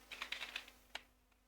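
A URL being typed on a computer keyboard: a quick, close burst of crisp key clicks, then a short pause and one final sharper keystroke, with no talk.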